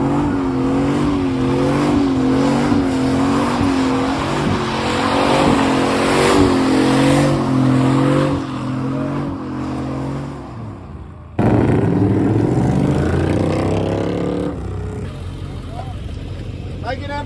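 Chevy truck at a truck meet in Jackson, Tennessee, revving its engine hard in long, loud roaring pulls. A crowd shouts and cheers over the noise, and a second burst of revving comes near the end.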